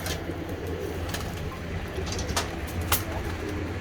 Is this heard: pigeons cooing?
yes